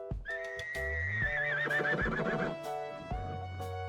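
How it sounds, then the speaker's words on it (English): A horse neighs loudly in a long, quavering whinny that rises and wavers before trailing off, followed by softer snorts and a brief second call near the end. "It's a horse."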